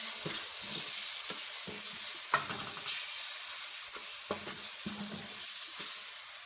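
Chopped tomatoes fry in a pot for maash daal while being mixed in, giving a continuous soft sizzle broken by repeated scraping and knocking strokes of the stirring spoon; no one speaks.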